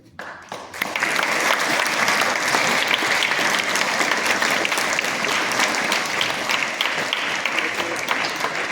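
A crowd of children claps steadily and enthusiastically, the applause starting suddenly and continuing for several seconds, close and loud.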